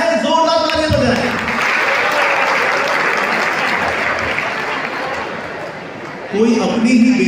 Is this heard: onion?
no